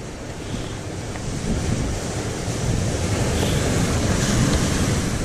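Rough sea with whitecapped waves surging along a shore during beach fishing, a loud continuous roar of surf mixed with gusting wind buffeting the microphone, building slightly in intensity.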